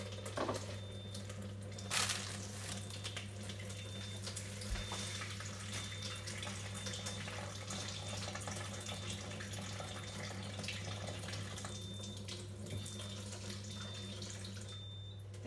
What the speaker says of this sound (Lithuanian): Pomidorus pamerkiu paprastam vandenyje iš krano.